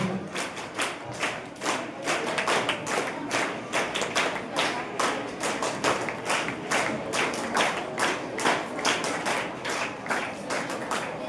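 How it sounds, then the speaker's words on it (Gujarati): Sustained applause from an audience at a high school prize ceremony as children receive awards, dense steady clapping with a few louder slaps, no talk over it. "જોરદાર તાળીઓ આ બાળકો માટે."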